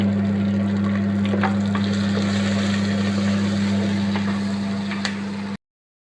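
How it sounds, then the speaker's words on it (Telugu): A large chopped onion fries in a pan with salt for a bottle gourd and prawn curry. A steady broadband sizzle runs under a constant low mechanical hum, unbroken until it cuts off abruptly near the end. "ఉల్లిపాయ వేసా కదండి ఉల్లిపాయ బ్రౌన్ కలర్ రావాలంటే మనం సాల్ట్ వేసి వేస్తేనే బ్రౌన్ కలర్ వస్తుంది"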